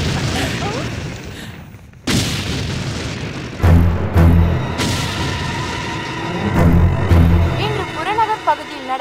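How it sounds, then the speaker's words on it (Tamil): Explosions in a Tamil movie scene, several heavy booms and bursts in sequence over a rumbling, cluttered background, loud and close, with some voices mixed in. "பகுதியில் நடந்த வெடி விபத்தால் நகரம் முழுதும் பரபரப்புக்குள்ளாகியது."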